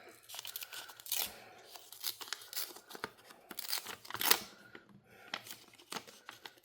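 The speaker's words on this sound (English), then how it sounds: "So I'm going to tear another one off." A piece of craft paper is torn off in a run of quick, crackly rips and crinkles that come in bursts and then pause, heard close up.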